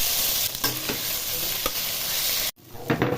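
Boiled potatoes hitting hot oil spiced with dried red chillies and a bay leaf, a loud close sizzle with stirring scrapes, cutting off abruptly before a quieter stir resumes.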